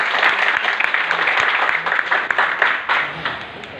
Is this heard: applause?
yes